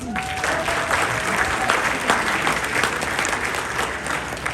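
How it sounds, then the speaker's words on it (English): Audience at a FreedomWorks political rally applauding themselves, a steady wash of clapping with a few calls and a faint voice underneath. "Give yourselves a round of applause."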